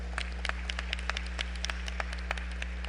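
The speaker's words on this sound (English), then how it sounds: "applause?" Sparse, scattered clapping from a prayer breakfast audience, fairly faint and distant over a steady low electrical hum, individual claps audible rather than a full ovation.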